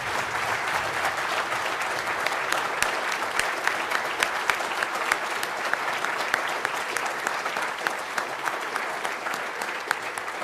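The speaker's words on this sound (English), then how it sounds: "Please join us in one last round of applause" A large audience claps steadily and continuously at a Hall of Fame induction ceremony, a dense wash of applause heard from within the room.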